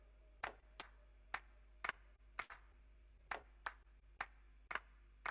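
Sharp, bright clap sample from a drum mix processed with a multiband compressor, struck about ten times in a steady, evenly spaced rhythm, each hit crisp with a sizzling top end over a low hum.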